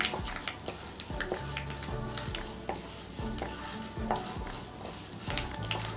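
Oil sizzles steadily with light crackles as urad dal grains roast in a pan, accompanied by occasional clicks and stirring scrapes.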